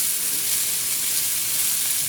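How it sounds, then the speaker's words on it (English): Constant bright sizzling and crackling of sausage frying in a hot pan, steady and close, with no talking. "I don't know if the camera is picking up the sizzling or not"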